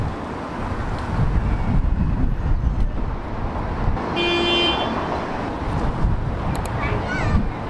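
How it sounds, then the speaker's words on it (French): A short car horn toot sounds amid wind-buffeted traffic noise in the narrow streets of Cádiz, Spain, with a few faint distant beeps later. "Alors il y a moyen que vous entendez beaucoup de klaxons."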